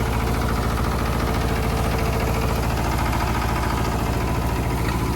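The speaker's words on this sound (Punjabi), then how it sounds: "ਟਰੈਕਟਰ ਨੂੰ ਪਤਾ ਵੀ ਹੈ ਨਹੀਂ ਕਿ ਪਿੱਛੇ ਬੈਟਰ ਚੱਲ ਰਿਹਾ" A tractor engine drives a four-foot rotavator in a field, giving a loud, continuous, steady low rumble with rapid pulsing vibration throughout.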